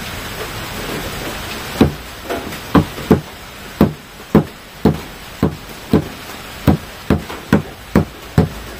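A hammer pounds in a steady series of sharp, loud blows, about a dozen strikes evenly spaced over a faint background of noise.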